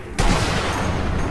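A single sharp, loud sniper rifle shot in Sniper Elite V2 bursts out after a brief quiet moment, followed by a dense, echoing rumble of the report.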